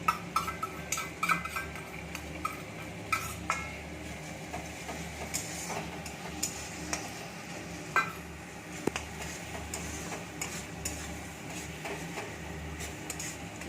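Garlic, ginger and tomato paste fry in a pan, with a steady sizzle under repeated scraping and stirring clinks from a utensil, sharp irregular knocks punctuating the close, busy frying noise.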